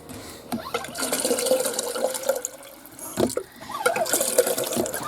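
Water is hand pumped into a sink in a popup camper, gushing and splashing in uneven surges with a brief pause, close up and with no voices.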